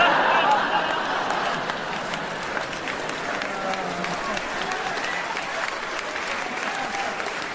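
Audience applause fills a stand-up comedy show, a dense, steady wash of clapping from a large crowd that stays loud throughout with slight swells, some cheering voices mixed in.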